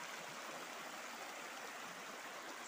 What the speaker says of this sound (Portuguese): Olha só, galera, o riacho aí, ó. Muita água aqui no Riacho das Cruzes